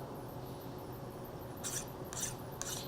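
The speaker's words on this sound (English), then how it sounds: "make sure you do a really good job of deburring these edges" Edges of a machined metal block are deburred with a file. A faint continuous rasping runs throughout, and three brighter scraping strokes come near the end, close and quiet with no speech.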